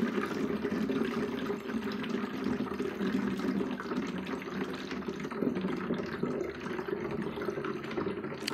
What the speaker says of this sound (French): nous allons verser pour que ça entre dans notre bidon